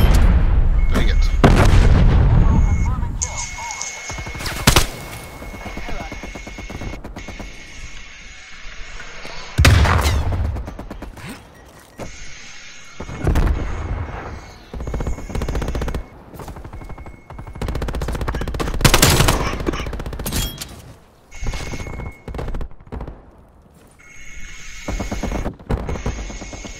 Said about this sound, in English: I was shooting at a sentry turret.